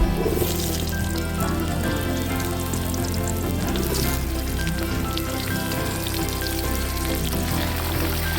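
Mixed vegetables dropped into hot oil with browned whole spices sizzle and fry loudly and steadily, a dense crackling hiss with no talking, for a Bengali mixed-vegetable dish.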